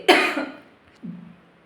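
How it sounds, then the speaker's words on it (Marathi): A single harsh cough up close, followed a moment later by a softer, low throat-clearing sound; no talking. "खोकल्याला काय करा खोकला काय थांबता थांबा नाही"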